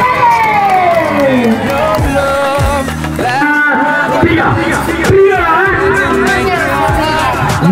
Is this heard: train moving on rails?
no